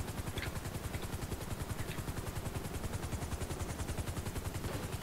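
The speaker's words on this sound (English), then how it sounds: "It's your helicopter." A video game helicopter thrums with steady, fast rotor chop that stays loud and even throughout, with faint clicks over it and no talk.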